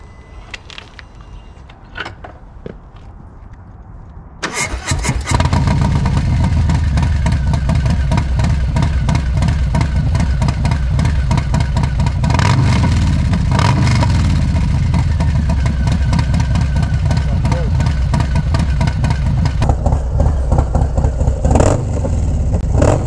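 A Harley-Davidson Low Rider S motorcycle with a Screaming Eagle 122 stage 3 engine fires up after a quiet start, then runs loud and close, rumbling and revving steadily for the rest of the span.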